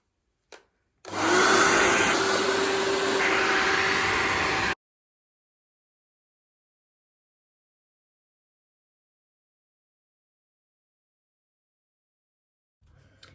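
A hair dryer blows on wet, freshly dyed hair in one loud, steady whooshing burst of about four seconds, then cuts off into near silence.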